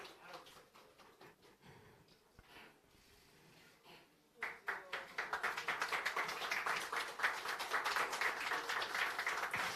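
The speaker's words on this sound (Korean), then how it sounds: "박수 부탁드리고요" Applause at a party convention ceremony after candidates sign a fair election pledge, starting faintly and swelling into steady clapping from a room of people after about four seconds.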